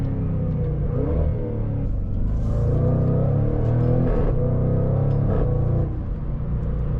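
A Mercedes-AMG GT63 engine in sport mode revs loudly and steadily, its deep low rumble holding for about seven seconds with a few rising throttle swells.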